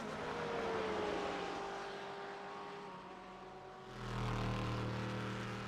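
BMW and Corvette GTE race cars roar along the straight at Interlagos, one engine note sweeping down in pitch as it passes and a second loud engine swelling in near the end.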